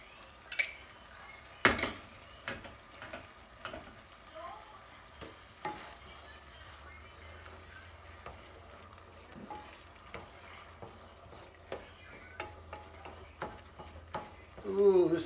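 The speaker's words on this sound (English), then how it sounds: "Let's put that last little bit of broth in there." Broth poured into a sizzling pan and stirred, with irregular utensil clinks and scrapes against the pan over a low, continuous sizzle, close up, with a voice briefly in the background.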